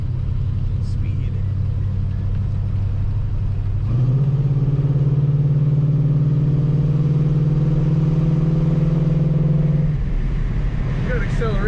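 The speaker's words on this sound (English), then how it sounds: "We've got acceleration and an awesome exhaust sound out of this car." A 1969 Oldsmobile 442 revs up with a steady, loud exhaust drone that holds for several seconds and then drops back to a low idle rumble, heard close.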